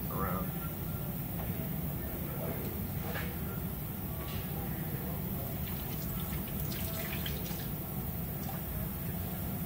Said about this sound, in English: Oil's gonna start coming out of there.